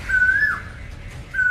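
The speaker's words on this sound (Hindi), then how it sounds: "कोयल की कूकने की ये तस्वीरें दिल्ली के वसंत विहार इलाके की है।" Asian koel calling in the Vasant Vihar area of Delhi, two clear whistled notes separated by a pause, heard over a low rumble of background noise.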